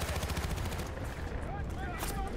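Rapid machine gun fire fills a Battlefield: Bad Company 2 combat scene, a dense continuous stream of shots with battle noise layered underneath.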